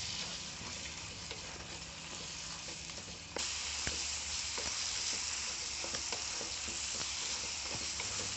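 Ingredients for drumstick leaf chutney, dusted with turmeric, fry in a pan with a constant sizzle and occasional stirring scrapes, close up and with no voices.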